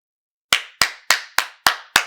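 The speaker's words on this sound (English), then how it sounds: "Come on, give her a hand clap, people." Six crisp, loud hand claps for actress Janelle Monáe ring out close by, evenly spaced about a third of a second apart after a moment of silence, with no voices.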